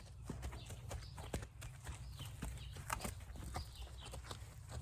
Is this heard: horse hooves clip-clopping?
yes